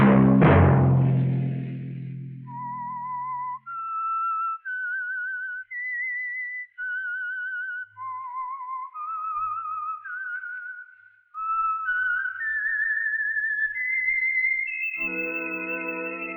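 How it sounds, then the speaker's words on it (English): Theme whistle of The Whistler radio mystery program: a lone whistled melody of wavering sustained notes, clear and close, following a struck chord and ending with a brief orchestral sting. "Let that whistle be your signal for the Signal Oil program, The Whistler"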